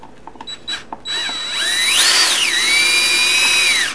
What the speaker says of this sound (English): Drill's really easy,